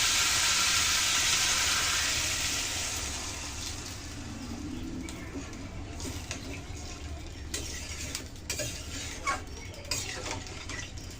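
Water poured into a hot pan of cauliflower, potato and tomato curry, a loud hissing burst that fades into a gentle simmering bubble with light clinks of a spoon against the pan.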